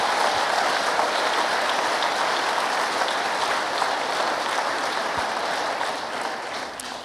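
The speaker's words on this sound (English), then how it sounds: "So if we can have a round of applause for our speakers." Sustained applause from a large conference audience at a closing session, a broad even wash of clapping that fades slightly near the end.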